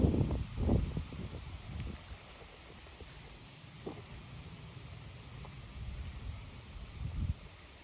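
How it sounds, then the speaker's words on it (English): Outdoor wind buffeting a microphone in low rumbling gusts, strongest at the start and again near the end, easing to a softer steady rush in between, with no talking. "so I'm trying to let the wind calm down a little bit."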